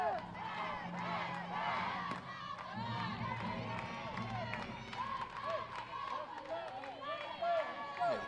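Crowd at an NAIA softball semifinal between Cumberlands and Oregon Tech cheering, clapping and shouting steadily, with whistles and calls rising over the constant roar and a commentator talking over it.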